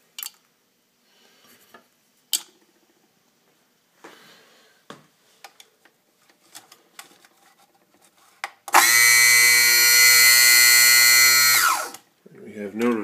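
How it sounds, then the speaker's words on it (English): A Baratza Vario coffee grinder clicks a few times as it is handled, then its motor whirs loudly for several seconds with the belt slipping, a strained steady whine that cuts off abruptly, close by. "We have no rotation and the pulley seems to be turning and the belt's just slipping."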